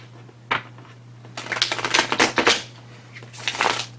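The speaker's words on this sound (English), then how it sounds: "Shuffle again." A deck of tarot cards being shuffled by hand, with a single flick followed by a run of rapid riffling and crisp papery slaps, then another short burst, close and fairly quiet.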